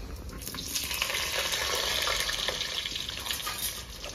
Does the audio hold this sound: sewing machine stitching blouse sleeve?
no